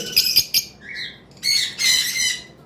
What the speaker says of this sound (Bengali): যেমন আপনারা এখানে দেখতে পাচ্ছেন একজোড়া গ্রিন ফিশার রয়েছে